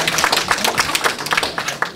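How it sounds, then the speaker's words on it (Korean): A crowd at a Korean community association's extraordinary general meeting in Auckland bursts into applause, a dense run of many hands clapping close by for about two seconds. "박수"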